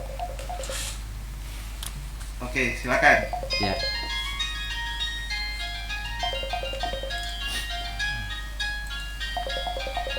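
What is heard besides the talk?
telephone call being dialed and ringing on radio show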